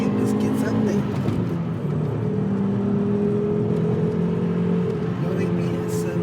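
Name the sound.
Volvo S60R engine revving while accelerating onto freeway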